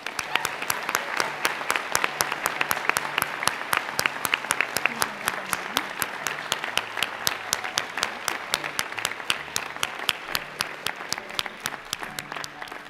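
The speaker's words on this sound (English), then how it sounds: "Please give Marcia Franklin a round of applause." Audience at a Methodist College graduation ceremony claps steadily for about thirteen seconds, a dense, even patter of many hands filling the hall without pause.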